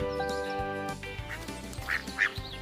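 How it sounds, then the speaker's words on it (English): Duck quacking in a children's farm animal counting song, several short nasal quacks in quick succession over a bright musical backing. "A little white duck is waddling to the pond."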